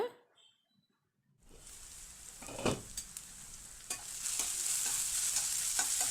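After a quiet start, chopped onions for mutton keema gravy hit the pan and sizzle loudly, with several distinct stirring scrapes as the frying builds and stays steady.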